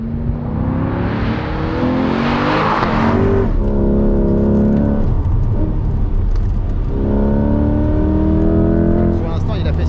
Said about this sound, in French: tour chrono avec la Corvette C8